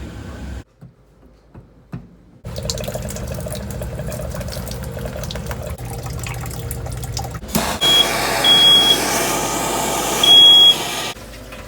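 Water running steadily through household plumbing after the supply is turned back on, a continuous hiss and rush that swells louder near the end, with brief electronic beeps over it.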